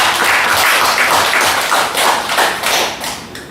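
A Korean church congregation at a Wednesday worship service claps loudly for the pastor's wife, with many dense hands beating in uneven bursts close by and no voices on top.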